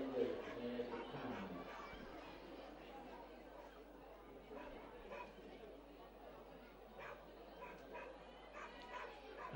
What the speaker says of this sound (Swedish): Sen där hund som tycker om att skälla sig genom banan också.